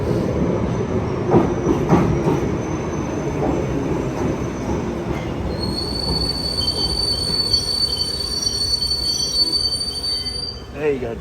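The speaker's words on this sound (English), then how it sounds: "That's a dirty underground train." A London Underground Piccadilly line train in the Train Sim World game runs along with rattling wheels, then gives out long high metallic squeals as the wheels grind on the track.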